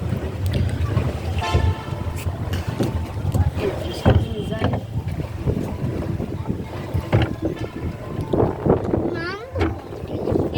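A small boat travels on water early in the morning, with engine and water noise, gusting wind against the microphone and a few tooting horn bursts, while people talk over it nearby.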